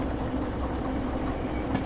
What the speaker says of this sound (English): our train, which is now going 10 kilometers per hour